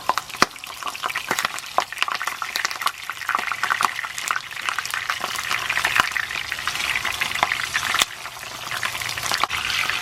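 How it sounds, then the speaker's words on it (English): Fish sizzles and crackles steadily in hot oil, a close, continuous frying hiss broken by sharp pops and spatters throughout, with no talking. "Alright, so the oil is hot. Going in with my fish."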